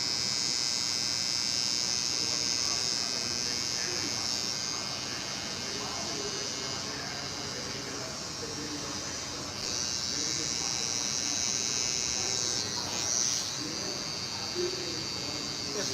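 An electric hair trimmer buzzes steadily and close for the full stretch while eyebrows are tidied during a live haircut in a barbershop, with a faint background murmur beneath the hum.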